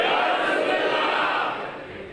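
A crowd at a religious gathering roars a collective chant in reply to a shouted slogan, a dense, loud wall of voices sustained for about two seconds before easing slightly.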